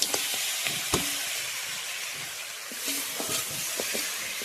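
Fish hitting hot fried spices in a pan sizzles with a steady hiss and scattered crackles and pops, close by, with no talk.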